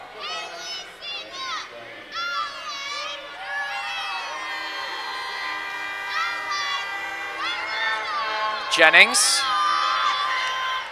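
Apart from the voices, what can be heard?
basketball arena crowd cheering loudly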